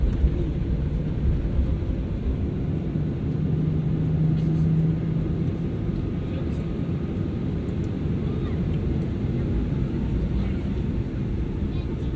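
Steady low rumble of a Malaysia Airlines Boeing 737-800 cabin around takeoff, engine drone and airframe noise filling the space evenly, with faint clicks scattered over it.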